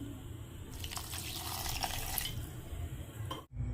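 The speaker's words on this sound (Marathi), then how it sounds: "आता याची पेस्ट करून घेणार आहे पाणी टाकून" Brief trickle of water being poured into ground spice paste, close and moderately loud, stopping abruptly near the end.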